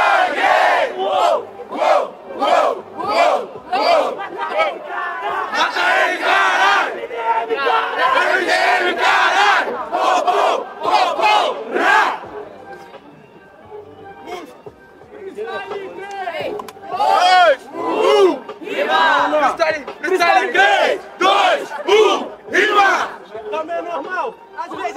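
A rap battle crowd in Brazil shouts back in unison to a rapper's call, giving loud rhythmic chants in repeated bursts that mix with his voice, with a short quieter stretch in the middle.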